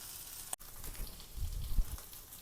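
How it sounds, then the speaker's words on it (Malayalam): Small fish crackle and sizzle in hot oil in a pan, a soft close bubbling hiss with a brief cut-out early and a few louder pops toward the end. "അപ്പോൾ നമ്മുടെ പൊടിമീനൊക്കെ മൊരിഞ്ഞട്ടോ, ഞാൻ മറിച്ചിട്ട് റെഡി ആയിട്ടുണ്ട്."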